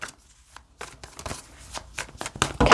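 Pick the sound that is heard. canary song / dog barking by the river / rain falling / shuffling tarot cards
shuffling tarot cards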